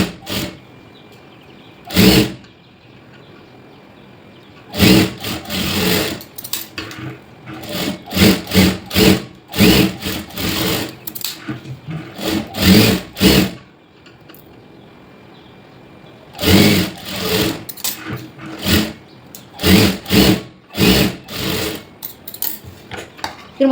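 A sewing machine stitches a blouse seam in repeated bursts of rapid needle clatter separated by short pauses, close and loud, with no talking.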